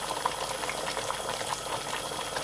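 Chicken masala with oil and water cooks down in a pan over a medium flame, a steady close bubbling and sizzling with small pops scattered throughout and no talking.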